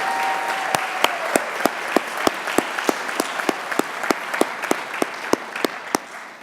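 Applause for athletes at a Special Olympics Canada awards event rolls on for several seconds, a thick crowd wash punctuated by sharp, regular nearby claps standing out above it.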